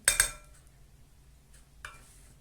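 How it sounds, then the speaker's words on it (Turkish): A few sharp utensil clinks against a bowl while strained yogurt dressing for a winter cabbage salad is whisked: two quick taps at the start, then a single fainter clink, with near-silence between. "Şöyle birazcık çırpalım."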